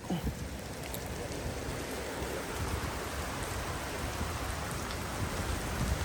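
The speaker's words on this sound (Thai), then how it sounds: "ตอนนี้ฝนตกนะครับ" Steady rain falls in Surin province, Thailand, a dense, even hiss of drops on surfaces that holds at one level throughout, with no voices.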